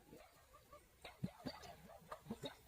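Several dogs bark and yip in short, irregular bursts near a remote rural home with three families, fairly faint at first and growing sharper, with a few overlapping barks toward the end.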